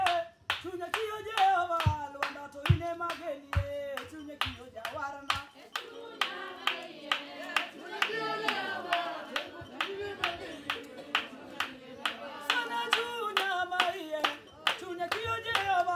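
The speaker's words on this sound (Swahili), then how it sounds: "Pigia Bwana makofi" Rhythmic hand clapping, steady and sharp, accompanying group singing throughout a church worship service in Seme, Kenya.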